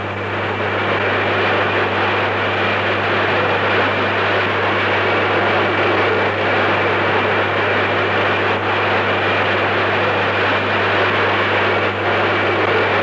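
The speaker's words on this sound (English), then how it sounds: "Concorde begins acceleration into transonic speeds" Inside the Concorde, its jet engines roar steadily while it accelerates toward transonic speed, a loud unbroken cabin drone with a constant low hum and no voices.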